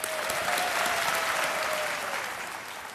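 Steady applause from an audience fills the space, holding strong for a few seconds before tapering slightly.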